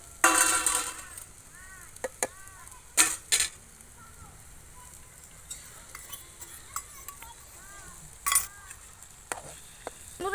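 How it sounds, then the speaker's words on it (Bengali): A spatula stirs and scrapes through egg cooked with boiled potatoes in a pan for bhujia, giving soft frying sizzle. Sharp metallic clinks strike at intervals, loud and close, with brief chirps between the utensil hits. "আলু সিদ্ধ হয়ে গেছে এবার আমি এই ডিমটা এর মধ্যে দিয়ে দেবো"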